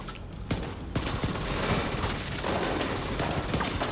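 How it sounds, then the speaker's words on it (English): Bursts of rapid gunfire sound during The Division 2 video game combat, with sharp repeated shots landing headshots, loud and close, continuing throughout without speech. "Now we can start popping headshots to our heart's content."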